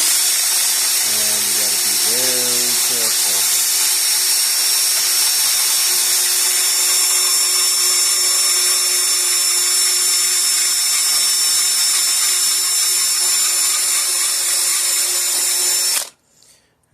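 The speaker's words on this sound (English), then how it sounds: "so I'm going to have to grind this thing out" A power tool grinds out a stuck forward gear bearing from an outboard boat motor, a loud continuous high-pitched whine with a few wavering pitch changes early on, running steadily before cutting off abruptly near the end.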